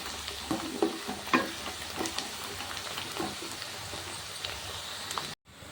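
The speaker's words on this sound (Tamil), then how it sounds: "வெங்காயத்தை இந்த எண்ணெய் காஞ்சிருக்கு அதில் போடுறேன்" Onions dropped into hot oil in a pan sizzle and fry close up, with irregular stirring clatter over a steady crackling hiss and no voices.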